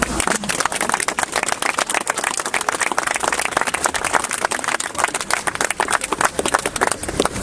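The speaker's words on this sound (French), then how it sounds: "je voudrais qu'on l'applaudisse déjà" An audience applauding at a gathering, dense continuous clapping from many hands that stays loud and steady throughout, with no voices heard over it.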